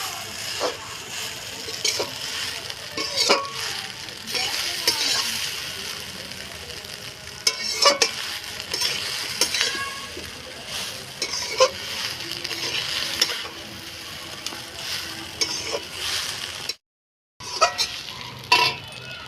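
Ingredients for prawn hakka noodles fry in a pan with a constant sizzle and frequent clinks and scrapes of a utensil stirring. The sound stops briefly near the end.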